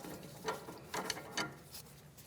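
Ratchet loosening a sway bar link mounting nut on a 2016-2025 Chevrolet Malibu, several quick close clicking strokes in short bursts, fairly quiet and alone.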